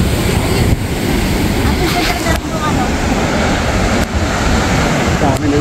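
Ocean waves at Sandbridge Beach, Virginia Beach, roll and wash continuously up close with steady surf roar and wind buffeting the microphone, while voices talk faintly in the background.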